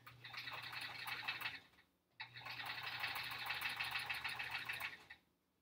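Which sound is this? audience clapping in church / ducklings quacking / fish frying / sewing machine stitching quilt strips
sewing machine stitching quilt strips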